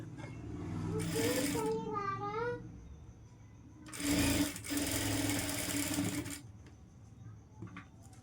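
A sewing machine stitching a blouse runs in two loud bursts, a short whirring run and a longer one after a pause, with a voice talking between and around them.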